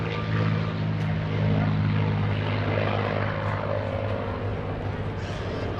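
A P-51D Mustang with a piston engine and propeller flies past at a military airshow, giving a continuous loud, rumbling drone that holds steady throughout.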